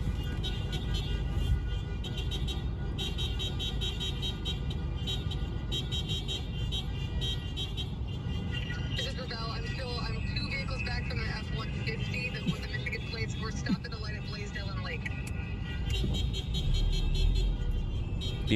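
Car horns honk across city streets, with repeated toots and longer blasts sounding at a distance over steady traffic noise.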